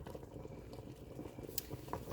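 Low-sugar blueberry jam boils in a pot, giving a soft continuous bubbling with small pops and plops, quiet and close, with no talking.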